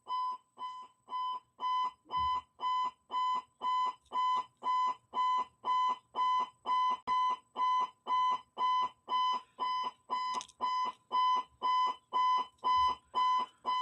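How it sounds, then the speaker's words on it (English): Indoor fire alarm going off with a steady pulsing electronic beep, evenly spaced tones repeating about twice a second, loud and continuous with no voices. "When the fire alarm stops going off"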